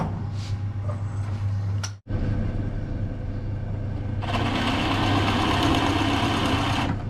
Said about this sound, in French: Alors là, je perce à 20 à l'intérieur.